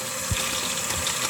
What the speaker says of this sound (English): I'm going to use hot water to fill this bucket